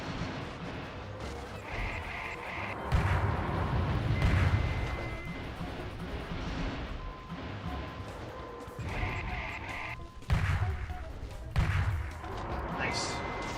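Missile explosions in the Metal Wolf Chaos video game, heavy booming blasts and crashing impacts rolling through a busy battle mix, with several louder bursts spread across the stretch and bits of game voice mixed in.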